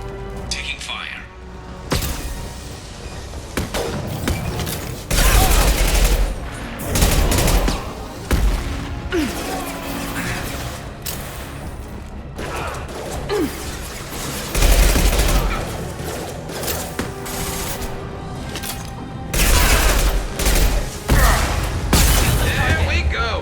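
Rapid gunfire from combat in Mass Effect 2 comes in repeated loud bursts of automatic shots and booms, with brief lulls between them and voices calling out during the fighting.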